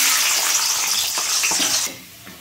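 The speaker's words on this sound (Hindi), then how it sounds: "अभी ये सब फ्राई होगा, अभी भी रिफाइन ऑयल यूज कर रहे हैं, सरसों तेल नहीं, काजू फ्राई करेगी मेरी मम्मी।" Cashews frying in refined oil in a home kitchen pan, a loud, steady hiss of sizzling oil with a few stirring scrapes, fading as the sizzle dies down at the end.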